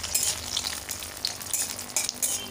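Cashews frying in a pan of hot oil and ghee, a steady dense crackling sizzle with small bursts of spattering throughout, close and alone with no voices.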